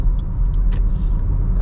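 A Toyota Glanza AMT cruising on the highway in fifth gear, heard from inside as a loud, steady low engine and road rumble with faint ticks and rattles over it, no voices.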